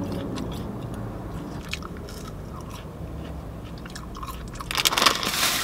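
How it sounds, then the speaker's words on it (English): Chips from a London chicken shop, dry and tasting of old oil, are bitten and chewed with soft crunching close to the mic, the chewing growing louder and crisper near the end. "Let's give the chips a go."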